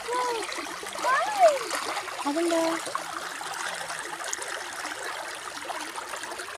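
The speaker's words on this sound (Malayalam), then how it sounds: "ഇപ്പോഴേ ഇവിടെ നമ്മുടെ അരുവിയുടെ സൗണ്ട് കേൾക്കാം." A small stream flows steadily with a continuous watery rush and splash through the whole stretch, a voice speaking briefly near the start.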